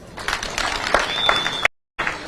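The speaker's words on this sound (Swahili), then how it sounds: "Makofi kwa watu." A crowd applauds at a political rally in Kakamega County, Kenya. Dense, steady clapping fills most of the moment, then stops abruptly in a brief silence before resuming.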